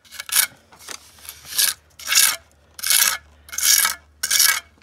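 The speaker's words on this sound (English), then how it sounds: "Just need to smooth it all out with some cement before we paint it." Cement is smoothed onto a house wall in Portugal, with about seven rough, rasping scrapes in a steady back-and-forth rhythm, close and fairly loud, with short pauses between strokes.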